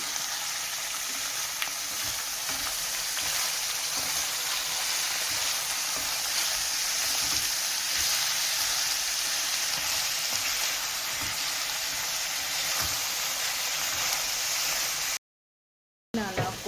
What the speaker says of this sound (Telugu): ఆనియన్ ఇప్పుడు కలుపుతూ ఫ్రై చేసుకోవాలి